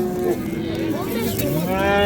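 A 15-day-old bull calf moos in a long, wavering bellow that rises and falls, close by, with low livestock market noise underneath.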